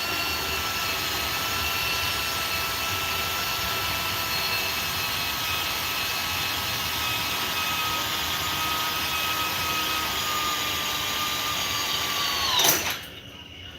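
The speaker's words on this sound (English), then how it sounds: "Is there a reason you're drilling that at like a 45?" Power drill boring at a 45-degree angle in a garage workshop, a steady high whine held for many seconds before stopping abruptly with a short clatter.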